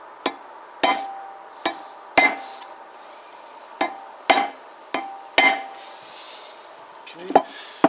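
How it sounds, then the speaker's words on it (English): Sharp metallic hammer blows on a chisel, struck to shock a bearing off a Kawasaki BN125 Eliminator motorcycle, ring out in about ten separate hits with short pauses between, close and loud with no talking. "shock it off with a chisel."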